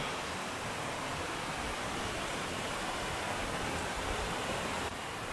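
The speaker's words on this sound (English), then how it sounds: "this is the waterfall right here." A waterfall at Clarks Gully pours in a dense, constant roar close by, unbroken and with no voices.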